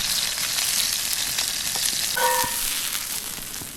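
Steady, crackling sizzle of steak searing in a hot Lodge cast iron pan outdoors over a fire, close and continuous, with a brief scrape or clink partway through.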